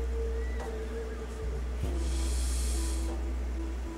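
A horse neighs in the video game Humankind, a whinny with snorting breaths over a steady low background hum, fairly close and moderately loud.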